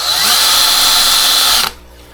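A power drill reaming out a hole whines at high speed, loud and close, for about a second and a half, then cuts off abruptly.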